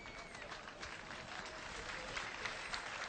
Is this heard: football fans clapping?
yes